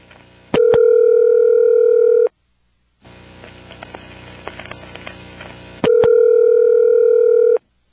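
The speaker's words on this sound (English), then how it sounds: "Let's take a good listen to those pulsing noises it made setting up the route to the phone line." An NX1-E telephone switch in a 1977 Vanceboro, North Carolina exchange pulses while setting up a route, with a steady tone at the start and end framing a quieter stretch of rapid clicks and pulses.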